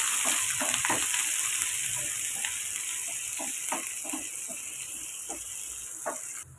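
Mustard seeds, cumin, onion and dried chillies sautéing in a pan: a steady bright sizzle with intermittent scraping stirs and faint crackles, close and continuous throughout.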